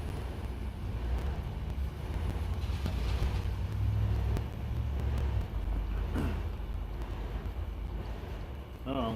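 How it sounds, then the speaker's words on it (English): A car goes by on a road beside an outdoor burger grill, a broad low rumble that swells and fades over several seconds under wind noise, with a few brief voices in the background. "Another car."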